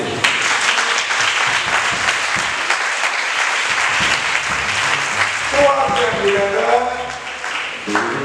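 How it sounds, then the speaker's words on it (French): A church congregation bursts into loud, sustained applause and cheering that fills the whole stretch, with shouting voices rising over the clapping toward the end. "On va acclamer."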